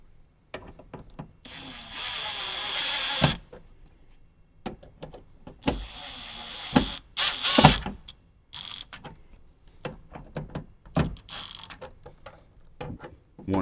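A power driver tightens the speaker screws in a Toyota 4Runner door, giving short whirring bursts separated by quiet gaps, with small clicks and handling knocks between runs.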